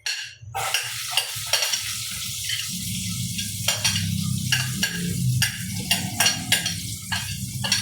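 Chopped onion dropped into a hot pan with garlic, frying for miswa with sardines: a loud hiss at first, then a steady sizzle broken by repeated clinks and scrapes of a utensil against the pan, close by.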